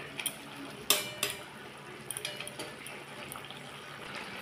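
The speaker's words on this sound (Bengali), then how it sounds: "আমি মাছগুলোকে নাড়ব" Puti fish curry being stirred in a pan, with a few sharp utensil clinks against the metal and soft scraping amid a low simmering background, close and moderately quiet.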